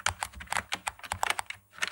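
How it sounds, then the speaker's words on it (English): Rapid, irregular key presses on an upgraded Sinclair QL home computer keyboard, close and clear, a steady run of clicky taps with no talking. "Every time I press a key, it's making a noise."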